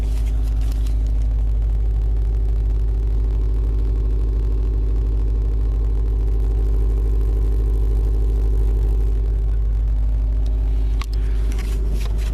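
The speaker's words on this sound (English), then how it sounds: "It's a little bit low sounding for WRX, but I like to hear the sound of it." A Subaru WRX idles close to its exhaust in the cold, giving a steady, low, throaty rumble with a faint rhythmic burble that holds evenly throughout, with no talking.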